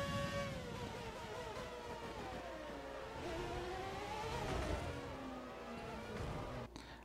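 A 2004 Ferrari Formula 1 car in a racing video game at the Azerbaijan Grand Prix flies past on the straight, its high engine whine sweeping in pitch over a quiet, steady bed of other engine noise.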